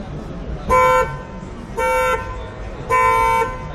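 Three short, steady car horn honks at even intervals, loud and close, from a horn wired to an automotive training board at a trade fair, with a quiet hum of room noise between them.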